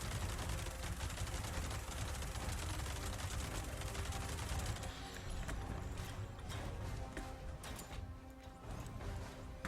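Sustained rapid gunfire from a heavy gun in the video game Fallout 76, dense and continuous with loud overlapping shots throughout, easing slightly toward the end.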